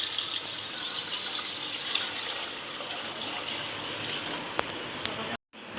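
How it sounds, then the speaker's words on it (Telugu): Water pours into a 3 kg bowl on a stove for Telangana-style chicken biryani. It makes a steady, continuous gushing hiss for over five seconds, then cuts off abruptly near the end, with no talking. "ఉడకడానికి సరిపడని వాటర్ తీసుకున్నాం"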